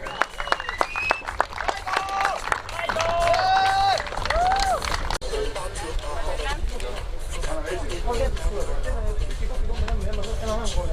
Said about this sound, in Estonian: aplaus neile